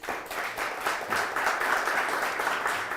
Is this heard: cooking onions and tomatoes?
no